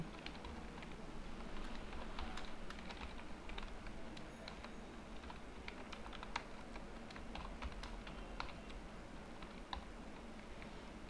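Typing on a computer keyboard while entering text in Microsoft Word 2007, a quiet, irregular patter of key clicks over a faint steady hum.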